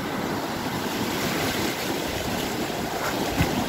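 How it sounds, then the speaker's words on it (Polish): Ocean waves roll in and wash ashore under steady wind noise buffeting the microphone, a continuous loud surf hiss with a slight surge near the end, no talking. "Idzie fala."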